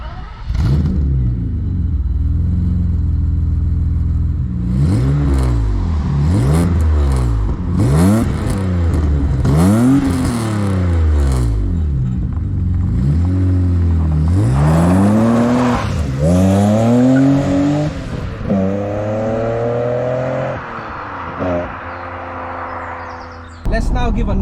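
A 1992 BMW 850i E31 with a manual V12 pulls away on the road, engine revving up through repeated gear changes with rising and falling pitch sweeps, loud and close throughout.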